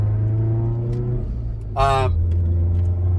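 A Subaru Forester STI with a big turbo tune drives along at a steady, loud engine drone. A sharp whooshing burst rises briefly partway through, then the rumble carries on.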